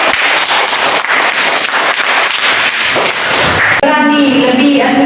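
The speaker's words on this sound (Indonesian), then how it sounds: "Ya, tepuk tangan." Students in an Indonesian teacher-training class clap together after a group presentation, a loud, crisp burst of many hands that runs for nearly four seconds before a voice cuts in over the tail.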